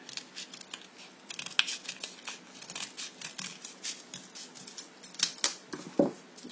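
Soft, quick snips and clicks of a small cutter chopping through a slide, repeated in an irregular patter at close range, with a few sharper cuts near the end.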